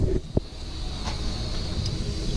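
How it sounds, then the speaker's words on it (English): A steam locomotive's blower roars nearby with a steady, broad rushing hiss throughout while steam is raised, with a faint high whistle and a couple of brief knocks. "I've got the blower open, that's the big rushing noise you can hear."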